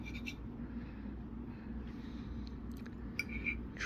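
A knife slices through Gouda cheese slices with quiet, soft cutting sounds and a few faint sharp ticks near the end, heard over a low steady background hum.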